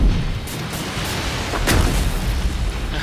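Gunfire in Saints Row IV: a dense stream of booming shots and blasts, loud and continuous throughout with no clear gaps.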